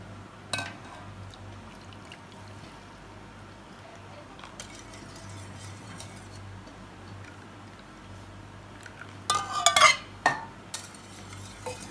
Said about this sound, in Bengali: এবার দুধ এবং ডিম ভালোভাবে অ্যাড করে নিব।